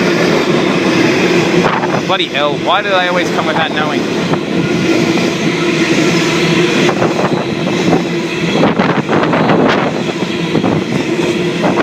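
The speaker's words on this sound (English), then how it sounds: "Empty coal train." An empty coal train hauled by locomotives rolls through Warrimoo station, a loud continuous rumble with wheel clatter and a rising horn-like tone early on, while a person speaks over it.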